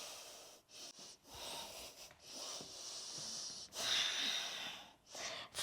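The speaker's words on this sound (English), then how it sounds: "breathing out through the nose" Soft, airy exhalations through the nose during a yoga session, long breathy hisses rising and fading in a slow rhythm, close and quiet with no talking.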